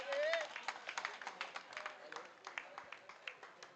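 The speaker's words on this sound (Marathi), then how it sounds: "अरे टाळ्या वाजवा" Crowd applause at a Fisherman Premier League 2026 prize distribution ceremony: a run of quick, fairly even hand claps, moderately close, after a brief voice at the start.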